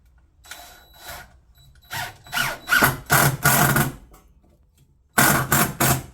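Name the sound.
power drill driving a screw while installing a water heater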